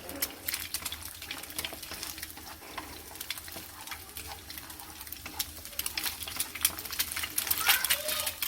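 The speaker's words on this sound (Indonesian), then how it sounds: "Panaskan minyak, lalu kita akan menggoreng telur terlebih dahulu" An egg frying in hot oil crackles and sizzles in a steady stream of small pops for a noodle soup recipe, faint and close, growing slightly busier near the end.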